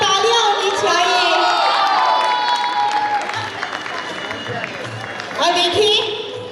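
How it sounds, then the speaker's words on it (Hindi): A festive family gathering crowd breaks into loud applause and cheering with high whoops and children's shouts, a dense, continuous wall of claps and voices that dips briefly before swelling again. "एक बार जोरदार तालियां होनी चाहिए"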